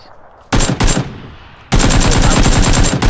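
Rapid bursts of automatic gunfire in the video game PUBG, loud and close, two short volleys followed by a longer sustained stream of shots.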